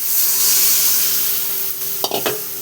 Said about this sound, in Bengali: দিয়ে দেবো আমি এবার জল।